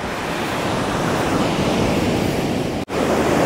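Light ocean waves wash steadily at the water's edge on Kuta Beach, Bali, a loud, continuous surf roar with wind rushing across the microphone and one brief dropout near the end.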